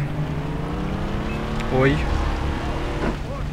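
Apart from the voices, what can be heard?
motorboat engine in video game Far Cry 3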